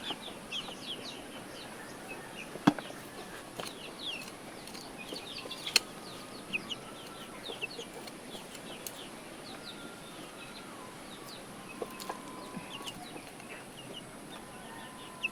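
Chickens clucking and calling in a yard as they are fed coconut worms, a steady scatter of short clucks and chirps with a few sharper calls standing out, fairly close over outdoor background.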